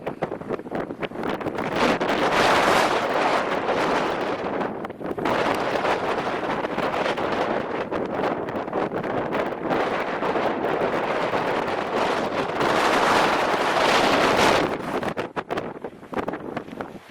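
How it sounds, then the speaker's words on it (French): Heavy wind buffeting the microphone in long roaring gusts, loud and continuous with brief lulls, no voices. "il y a du vent"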